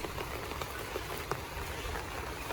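Rain falling on a city street in Shenzhen, a dense steady hiss of drops with scattered patters, moderately loud and continuous with no voices.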